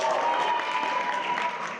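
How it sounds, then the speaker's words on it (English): Applause breaks out in a Cairo courtroom after a decision, a short burst of steady crowd clapping heard from a distance, with a murmur of voices and a faint tonal hum beneath it. "A decision greeted with applause in court"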